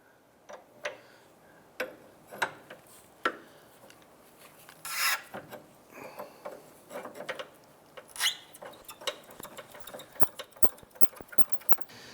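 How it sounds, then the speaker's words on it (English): Wrenches work a jam nut loose on the tie rod of a 2011-2019 Ford Fiesta, making close, irregular metallic clicks, scrapes and rasps in a quiet garage, with no one talking. "Use the 22mm to go ahead and loosen our jam nut right here."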